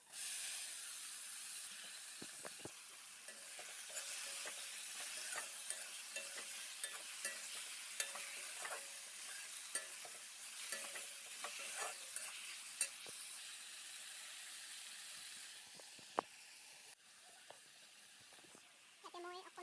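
Pieces of taro frying in a pan with tomatoes, a faint steady sizzle and hiss broken by scattered scraping taps of a stirring utensil, quiet and close.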